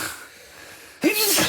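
A single sharp human sneeze bursts out close to the microphone after a second of quiet room tone during a podcast conversation.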